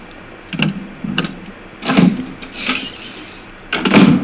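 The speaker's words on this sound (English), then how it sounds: "Yes, we do want to go through this door." Door opening in the Resident Evil video game: a series of heavy, muffled thuds and creaks with mechanical clunks, several distinct knocks spread over a few seconds, close and fairly loud with no talk.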